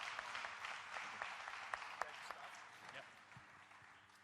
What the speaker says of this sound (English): Another big round of applause, please, for Vitaly.